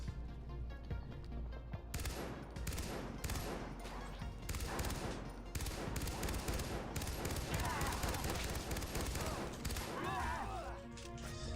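Dense video-game gunfire from Far Cry Blood Dragon: rapid bursts of shots crackling almost continuously for over ten seconds, loud and close, with game effects and a voice talking over parts of it.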